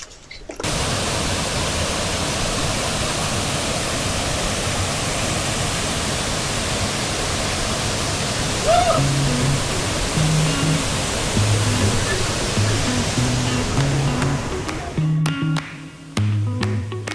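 A waterfall in the mountains of Jamaica roars as a loud, steady broadband rush from start to finish, with faint low tones drifting in underneath during the second half.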